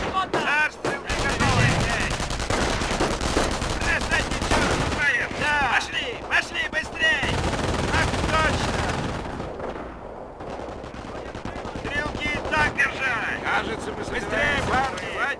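Dense, continuous gunfire and machine-gun bursts from battle in the video game Company of Heroes, loud and sustained with overlapping shots and shouted in-game voices mixed through it.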